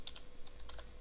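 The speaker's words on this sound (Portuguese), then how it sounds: "só que novamente eu apertei aqui o enter" Soft clicks of computer keys being pressed on a keyboard, including the Enter key, a quick run of light taps close by with no talking.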